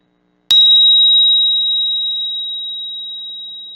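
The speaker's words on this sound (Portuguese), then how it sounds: "Eu faço esse sinal com sino." A single meditation bell is struck once, a clear bright ring that starts sharply and then hangs as a pure sustained tone, slowly fading in a quiet room.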